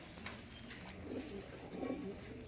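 Pigeons kept for sale coo softly nearby, with two low, rounded coos in quick succession over a quiet room hum.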